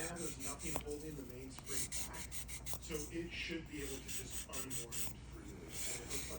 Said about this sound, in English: now I'm using an 800 sanding stick.